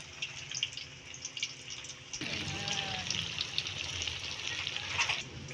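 Tokwa (tofu) frying in hot oil, a steady bright sizzle that jumps louder after a couple of seconds as pieces hit the pan, continuous crackling close up with no talk.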